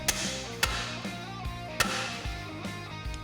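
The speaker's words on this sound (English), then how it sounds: "The new bearing installs with an aluminum driver and a few taps from a hammer." A few sharp metallic taps from a hammer on an aluminum driver, seating a new bearing in a 2002 GMC Sierra axle, spaced irregularly over quiet background music.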